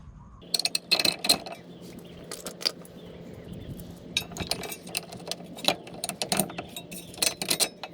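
A ratchet clicks in quick bursts while tightening two bolts on a car's lower ball joint, with sharp metallic ratcheting strokes separated by short pauses and occasional clinks of tools, close and fairly quiet.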